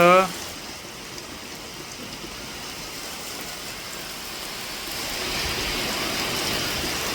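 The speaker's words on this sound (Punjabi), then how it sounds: "ਲਗਾਤਾਰ 5:30 ਵਜੇ ਦੇ ਤਕਰੀਬਨ ਜਿਹੜੀ بارش ਹੋਣੀ ਸ਼ੁਰੂ ਹੋਈ ਤੇਜ਼ ਹਨੇਰ ਵੀ ਚੱਲ ਰਿਹਾ ਹੈ" Heavy rain with strong wind in a village near Zira, Ferozepur district, Punjab: a dense, even hiss of downpour that swells louder toward the end, with a brief sound at the very start.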